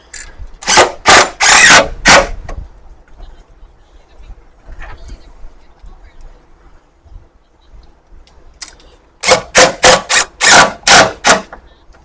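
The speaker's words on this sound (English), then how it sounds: "We're going to install the other three self-tapping screws." A power driver spins self-tapping screws into a truck tailgate while fitting a Westin tailgate ladder: two clusters of loud, rapid whirring bursts at the start and end, separated by a quieter stretch of faint handling noise.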